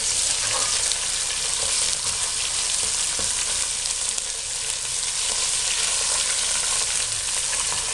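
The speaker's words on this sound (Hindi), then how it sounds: "लहसुन को बहुत हल्का सा फ्राई करना है।" Garlic lightly frying in a pan after onions, for a spinach kadhi: a continuous bright sizzle and crackle, steady and close throughout, with no voices.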